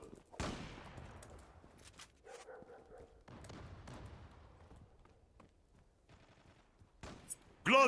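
Gunfire in the video game Zula: scattered sharp shots and short bursts, some close and loud, others fainter, with brief pauses between volleys and a few quieter clicks.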